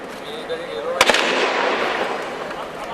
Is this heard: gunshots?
yes